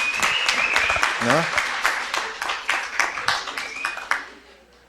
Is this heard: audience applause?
yes